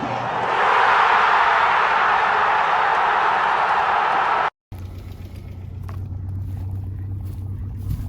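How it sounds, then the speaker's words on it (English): After a burst of broad hissing noise and a sudden cut, a Subaru Liberty wagon engine idles steadily with a low, even rumble, slightly tappy, in 40-degree heat. "it's idling"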